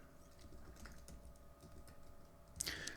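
Keystrokes tapped on a computer keyboard while entering a terminal setting in VS Code on Windows, a soft irregular patter of clicks under a low steady hum, ending in a brief louder burst.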